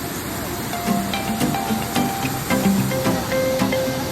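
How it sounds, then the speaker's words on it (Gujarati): Fast water pours from the Satsagar dam in a steady, loud hissing rush, with faint voices and other noises in the background. "કેટલી સ્પીડથી પાણી આવે તમે જો"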